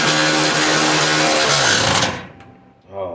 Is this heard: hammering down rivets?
yes